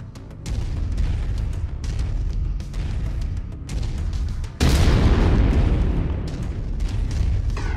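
Mech autocannon fire in MechWarrior 5: Mercenaries: heavy, booming blasts over a continuous deep rumble, with a sharper, louder burst about halfway through and sustained thunderous fire afterwards.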